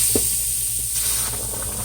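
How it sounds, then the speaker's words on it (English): A pot of New Orleans style gumbo sizzles on the stove. It makes a steady, soft hiss close up, with a faint clink near the start and no talking. "Can you see it sizzling? Can you hear that sizzle?"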